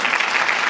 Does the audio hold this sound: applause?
yes